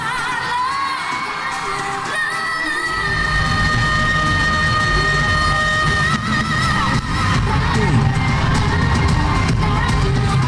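Arena crowd at Araneta cheering wildly during a performance at a FIBA event, with sustained roaring, whoops and shouts that build and stay loud over music.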